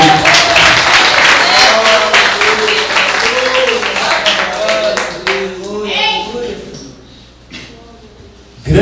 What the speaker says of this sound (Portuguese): Os irmãos podem sentar e bater aquelas palmas vitoriosas para o Senhor.